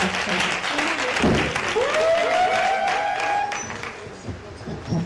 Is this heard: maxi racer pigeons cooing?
no